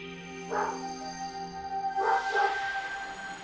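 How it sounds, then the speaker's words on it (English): Dog in the video game The Legend of Zelda: Breath of the Wild giving two or three short yips and barks at moderate distance over a quiet game music bed, with no talk. "Oh, dog."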